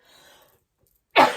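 A single sharp cough bursts out near the end after a faint, quiet stretch, brief and fairly loud against near silence.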